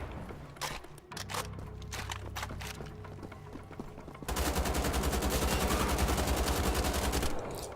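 Gunfire from dual-wielded guns in the video game Wolfenstein: The Old Blood: scattered shots and mechanical clatter first, then a loud, sustained rapid-fire stream for several seconds before it cuts off.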